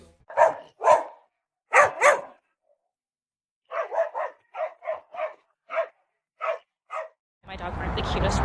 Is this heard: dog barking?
yes